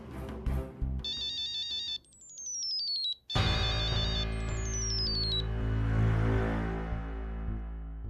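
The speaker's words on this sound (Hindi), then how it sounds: "अरे तो फोन क्यों नहीं उठा रही है?" A mobile phone ringtone plays bright electronic melodic tones in short repeated phrases, then a louder, sustained musical swell follows.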